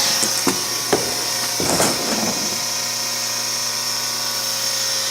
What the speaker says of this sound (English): So you can see the motor, which is turning this gearbox.